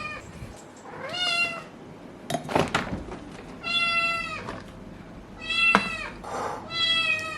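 A ragdoll kitten meows repeatedly and insistently while her food is prepared, with five or six drawn-out cries close by and a few kitchen clatters and thumps between them.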